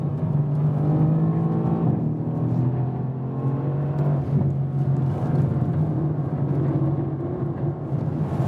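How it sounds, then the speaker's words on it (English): A Mercedes-AMG C63S coupé engine roars loudly and continuously as the car accelerates, its deep exhaust note rising and falling with gear changes through the whole stretch, with no talk over it. "enjoy with me the sound and the performance of the C63S"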